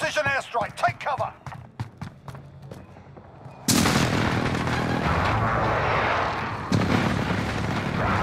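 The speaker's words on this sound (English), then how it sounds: "Precision airstrike, take cover!" Video game precision airstrike: a sudden loud blast rolls into sustained rumbling explosions, with a second impact a few seconds later, following a burst of speech.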